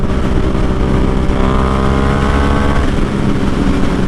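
Motorcycles on a group ride to New York City, among them R3, R6, MT-07 and FZ6 models, roar loudly and continuously at speed, with heavy wind noise and a steady engine drone up close.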